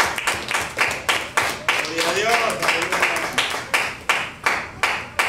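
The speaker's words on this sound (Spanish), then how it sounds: "Denle una ofrenda de palmas a Dios." Rhythmic group clapping offered to God in a Spanish-language church service, about a dozen loud, regular claps with a voice briefly speaking partway through.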